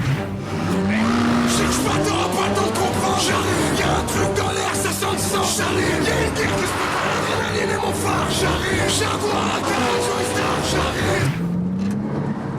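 A 500-horsepower twin-turbo all-wheel-drive sports car engine revs and accelerates hard through rising gear pulls, loud and close, with an engine roar filling the whole stretch.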